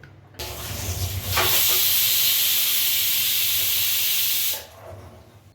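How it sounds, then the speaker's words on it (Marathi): A pressure cooker making veg pulao, also called masale bhat, lets out one loud, steady whistle of escaping steam. The jet surges up, holds for about three seconds, then cuts off, with a faint rumble under it before and after. "आता आपण कुकरला ह्याच्या तीन ते चार शिट्ट्या करून घेऊया"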